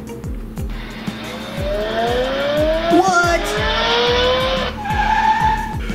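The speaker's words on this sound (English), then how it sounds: "It even has racing sounds to go with it." Racing cars scream past with squealing tires and revving engines while a voice briefly speaks over the din.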